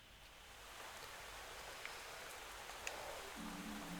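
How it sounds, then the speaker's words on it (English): Steady soft rain falls in a quiet scene of the video game Fall of Porcupine: Last Days of Summer, a constant hiss with a few faint drips, joined near the end by a low hum. "Well, it's raining."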